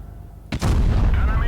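A tank cannon fires once in World of Tanks Blitz, a sharp close blast followed by a loud rumbling roar that stays heavy to the end.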